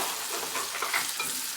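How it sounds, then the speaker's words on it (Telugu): Spices sizzle and fry in a hot pan with a dense, continuous crackle. The sound is close and steady throughout, with no voices. "ఈ చిటపటలాడడం తక్కువ అయిపోతే ఇక ఇది వేగిపోయినట్టు."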